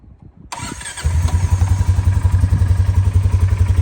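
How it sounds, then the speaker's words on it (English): A 2023 Polaris Sportsman 570 ATV engine cranks with a short clatter, then catches at about one second and settles into a loud, close, rhythmic idle pulse. "Then you turn the key. So let's listen to that."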